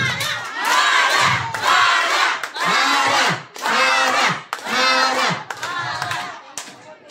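A crowd of supporters at a Filipino political gathering shouts together in unison, five or six loud rhythmic bursts of massed voices separated by brief pauses.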